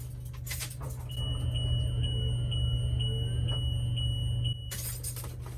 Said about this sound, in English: Beep, beep, beep, beep, beep, beep, beep